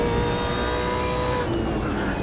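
Super V8 race car accelerating in Automobilista 2 at the Adelaide circuit, a steady loud engine roar with rising tonal whine, continuous and close throughout.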